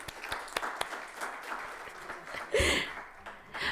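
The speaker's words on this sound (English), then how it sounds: "Give a warm applause once again to Dr. Shayma." Audience at a business leadership event on women in Kuwait and the Gulf applauds a speaker, beginning with scattered claps and swelling into a fuller burst of clapping near the end, with a little background murmur.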